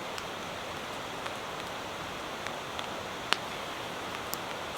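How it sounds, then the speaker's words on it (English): Light rain falling outdoors at a campsite, a soft, even hiss of drizzle with scattered individual drops ticking nearby, faint and steady throughout, with no voices. "It's raining slightly,"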